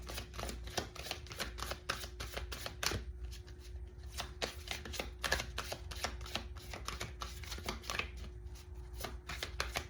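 Oracle cards being drawn and shuffled by hand, a steady run of quick crisp slaps and riffles close to the microphone, quiet and alone without speech.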